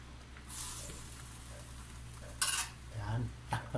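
A metal lid knocks and clatters back onto a cooking pot holding eggplant and okra, a few sharp clanks near the end over a low background hum.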